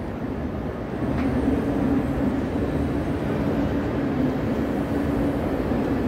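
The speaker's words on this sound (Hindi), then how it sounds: "ये हम अब जनाब मेन बर्लिन के मेन रेलवे स्टेशन के अंदर दाखिल हो रहे हैं" A steady, heavy rumble of trains and crowd noise fills the inside of Berlin's main railway station, a continuous, loud, echoing hall ambience with no clear pauses.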